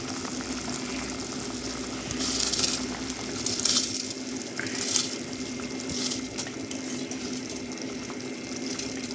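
Steady bubbling and rolling of water boiling in a pot for mushroom biryani, with a low hum underneath, continuous throughout with occasional louder bursts of bubbles.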